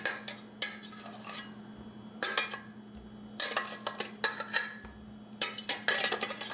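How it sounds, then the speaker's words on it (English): Metal tongs click and scrape against a pan while lifting cubes of tofu out of leftover liquid, sounding in short clattering bursts with quiet pauses between them, close up. "we're gonna take our tofu cubes with a pair of tongs"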